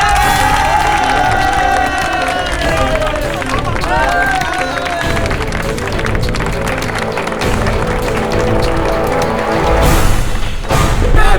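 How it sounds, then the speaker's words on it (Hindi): A crowd cheers and claps at a comedic moment in a Chhattisgarhi film scene, with shouting voices and bursts of applause running continuously at a loud, steady level, swelling briefly toward the end. "तालियां!"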